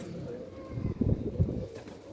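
Soft pigeon cooing, a few low throaty coos close by, with faint background noise.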